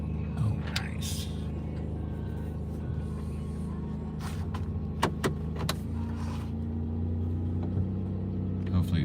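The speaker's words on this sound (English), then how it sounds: "Maybe she won't hear the van running." A van engine idles as a steady low rumble throughout, with occasional clicks and short bursts of voices over it.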